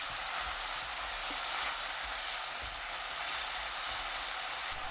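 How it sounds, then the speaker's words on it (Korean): Shiitake mushrooms, onion and chili peppers stir-fry over medium heat, giving a steady, close sizzle with faint scraping and stirring clicks running throughout and no voices. "표고버섯, 양파 넣고 중불로 1분 볶습니다."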